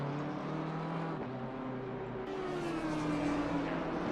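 A BMW GT3 race car engine in the racing game Assetto Corsa Competizione at Misano, a loud sustained high-revving drone with a pitch that shifts as it accelerates and changes gear.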